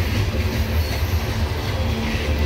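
A loaded CSX coal freight train rolls past at night, a steady close rumble of railcars with faint clickety-clack of wheels over the rails, continuous and alone without talk.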